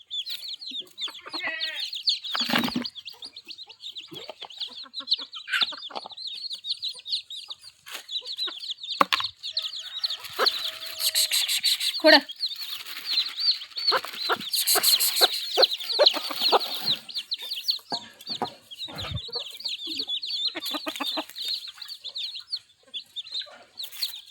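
A hen with her newly hatched chicks clucks in short, irregular bursts at close range, while the chicks keep up thin, high peeping throughout and a few louder squawks break in.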